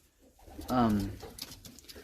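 A cock pigeon in a loft gives a single short cooing call near the mic, with faint background noise before and after.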